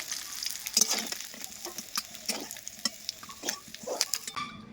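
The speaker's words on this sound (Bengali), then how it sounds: "এক এক করে সব আমার মাছগুলো কিন্তু ভাজা হয়ে গেছে তুলে নেবো" Pabda fish frying in oil, a close steady sizzle broken by repeated scraping stir strokes and clinks of a utensil against the pan, ending abruptly.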